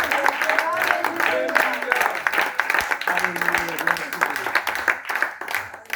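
A congregation claps during a bilingual Spanish-Italian church service, steady applause filling the room at a moderate distance with cheering voices and talk mixed through it.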